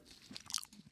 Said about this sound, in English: let me stop chewing